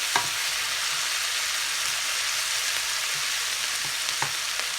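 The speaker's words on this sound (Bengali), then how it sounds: "এখন আমি এই পেঁয়াজের মধ্যে দিয়ে দিব ওয়ান স্পুনের মতো লবণ তারপরে একটু নেড়ে চেড়ে নিব" Onions with a spoonful of salt fry over medium heat, a dense, even sizzle running throughout with a few soft scrapes and taps as they are stirred.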